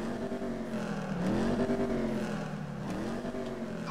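A sleeper dragster's engine in GTA 5 idling and revving, a steady low rumble that swells and dips twice, fairly close and continuous with no talk.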